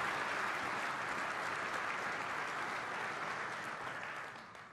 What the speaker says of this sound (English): Let's give Ahmed a round of applause, please.